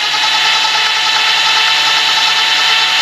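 Electric drill mixing fiberglass gel coat with added catalyst, a steady, loud, continuous whirring drone held at one pitch for the whole stretch, with no talk.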